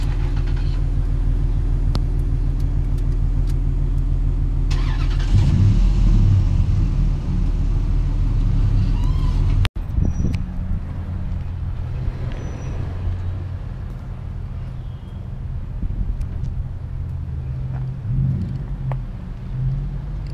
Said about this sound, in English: That's gonna be the exhaust clip for today.